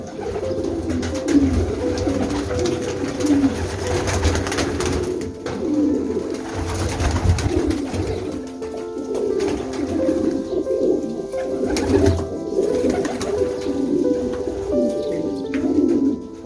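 Bursa pigeons coo in their coop, a continuous layered murmur of many nearby birds with overlapping rhythmic coos and occasional wing flutters.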